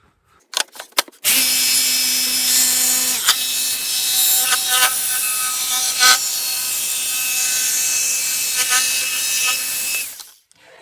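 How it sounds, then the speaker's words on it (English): A jigsaw cuts steadily through a wooden template for about nine seconds, loud and close, after a few short trigger bursts at the start, with small pitch dips as the blade works along the line. "I'm going to go ahead and use a jigsaw since most woodworkers have those"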